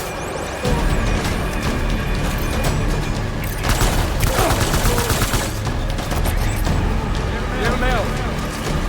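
Gunfire in the video game Death Stranding, dense bursts of automatic shots and booms, loud and continuous across the stretch with heavy layered battle noise.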